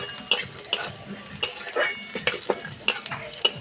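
Cashews, raisins and peanuts frying in a pan, a steady sizzle broken by repeated sharp scrapes of a spoon stirring, close and fairly loud.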